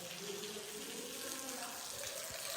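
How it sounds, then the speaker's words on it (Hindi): Water steadily running into a Sonalika RX 60 tractor tyre, a continuous hissing gush of moderate level with no voices. "लो भाई टायर में पानी भरने लग रहा है"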